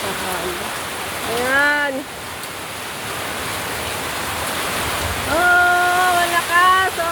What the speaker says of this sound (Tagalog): Ngayon po talaga ang bagyong Christine. Ngayon po siya nalalansa. Ayan, ang lakas.